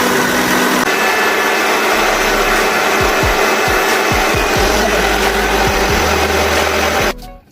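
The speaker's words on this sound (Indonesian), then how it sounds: "Nyalakan blender dan tunggu hingga halus." A blender grinds chili, shallot, garlic, candlenut, ginger, turmeric and tomato with water into a paste, whirring loudly and steadily for several seconds before cutting off at the end.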